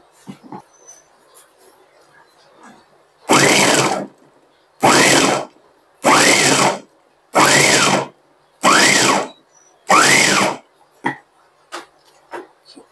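A pull-cord vegetable chopper cutting about five beetroots, giving six loud, evenly spaced whirring strokes of about a second each with short pauses between, close to the microphone and followed by faint handling clicks.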